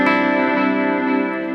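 A sustained electric guitar note rings out with a long trailing delay softened by reverb, its repeats blurring into a smooth, steady wash that fades only slightly across the short span, with no other sounds present.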